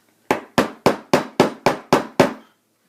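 Eight evenly spaced, close hammer whacks drive cut-off pieces down into a dummy cake drum, each a sharp knock with a short ringing tail in an otherwise quiet room.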